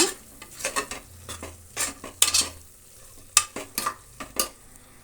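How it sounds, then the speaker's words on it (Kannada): Aachi biryani masala powder is stirred as it fries in a pan for biryani, with a spoon scraping in repeated bursts over a soft, steady sizzle; close and fairly loud, no voices. "ಈಗ ಅದರ ಜೊತೆಗೆ ಆಚಿ ಬಿರಿಯಾನಿ ಮಸಾಲ ಪುಡಿ ಎರಡು ಸ್ಪೂನನ್ನು ಹಾಕ್ತಾಯಿದ್ದೀನಿ ಅದನ್ನು ಒಂದು ನಿಮಿಷ ಹಾಗೆ ಕೈ ಆಡಿಸೋಣ"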